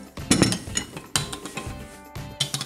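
Slime mixture being stirred in a bowl with a utensil, giving irregular clinks and scrapes in short bursts, close and fairly quiet, with no voice.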